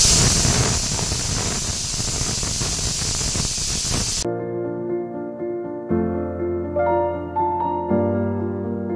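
Pressure cooker on a home stove releasing a steady, loud hiss of steam while dal with drumstick stalks cooks, running continuously for about four seconds before giving way to other sounds.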